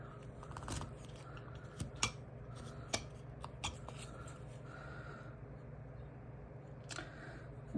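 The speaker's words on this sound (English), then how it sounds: "I'm just going to put my knife in here and cut this corner off." A carving knife cuts the corner off a small wooden figure carving, making a series of short, crisp snicks and scrapes spaced irregularly over a faint steady background hum.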